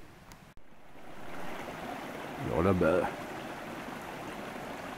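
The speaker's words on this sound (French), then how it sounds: "c'est un joli petit ruisseau que je connais bien." A small woodland stream trickles steadily in snowy, freezing woods, a soft continuous flow close by, while someone talks over it partway through.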